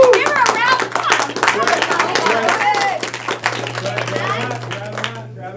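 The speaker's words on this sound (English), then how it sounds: "Give her a round of applause." Enthusiastic clapping from a group at a team meeting, steady and fairly close, continuing for several seconds while voices talk and cheer over it.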